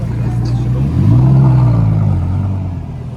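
A 560 sports car at a car concours gives a loud, close engine rev that rises, holds briefly and settles back to a rumbling idle, with faint chatter in the background.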